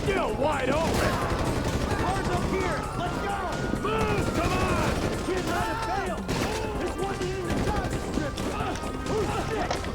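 Gunfire in GTA 5 on PC: dense bursts of shots and impacts crackle continuously under game music and effects, with someone talking over the action.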